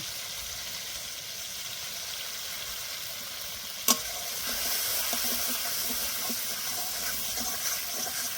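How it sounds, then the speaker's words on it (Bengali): Turmeric, chilli powder and green chilli paste sizzle steadily in hot oil as the spice paste is fried for pabda fish in mustard-poppy sauce, with a sharp clack near four seconds and soft stirring scrapes afterward. "এবার ভালো করে কষে নেব।"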